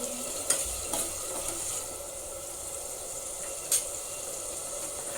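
Ginger garlic paste being stirred in a frying pan, a soft steady sizzle with a few faint scraping clicks of a spoon, close and unaccompanied by talk.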